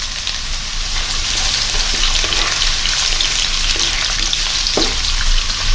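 Onions sautéing in a pan of oil for sambar, a steady loud sizzle that holds evenly throughout with faint stirring clicks and no talking.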